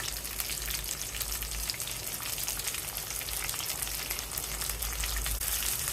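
Chopped cabbage fries in hot oil for bagara rice, giving a dense, continuous, close sizzle that stays loud and even throughout, with no voices.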